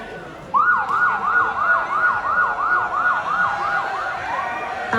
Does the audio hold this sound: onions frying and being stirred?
no